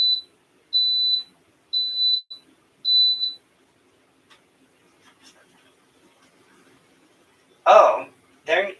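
An electric donut maker beeps an error: four short, evenly spaced, high-pitched beeps sound clearly over a quiet room, followed after a pause by brief talk near the end.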